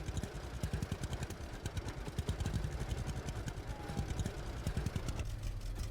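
A weak, partly broken-down tractor in Farmer's Dynasty 2 runs on cruise control. Its engine chugs with a rapid, even clatter of pulses, fairly faint but steady, and the tone shifts slightly near the end.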